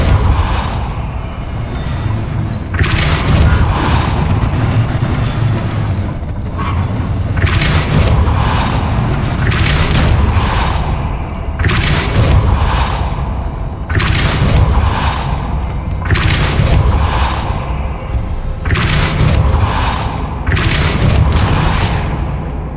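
Depulso spell blasts in the video game Hogwarts Legacy come as a series of heavy, booming bursts every few seconds over a constant low rumble, each swelling loudly before dropping back.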